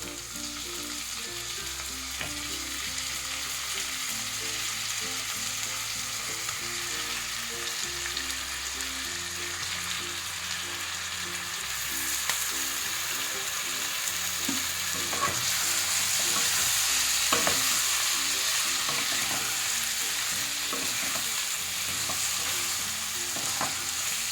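Cut chicken pieces sizzle and fry in a green masala for a hariyali curry, with steady stirring scrapes over a continuous loud crackle and background music throughout.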